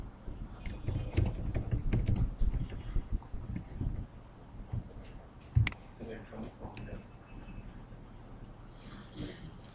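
Fingers type a database command on a computer keyboard, producing quick irregular clicks and taps that bunch into fast bursts early, then thin to scattered keystrokes with one sharp louder clack; the sound is close and moderately quiet.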